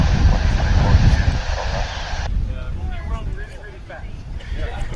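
An American Airlines flight from Puerto Vallarta comes in to land at DFW, its engine roar mixed with heavy wind buffeting the microphone, while someone narrates throughout.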